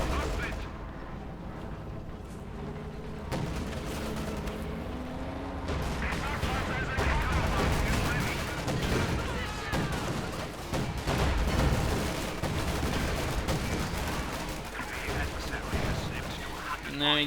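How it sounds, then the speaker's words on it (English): Flak Panzer gunfire from the Company of Heroes 2 strategy game rattles in rapid bursts amid booming battle effects and continuous commentary. "Flak Panzer tearing apart the anti-tank crews"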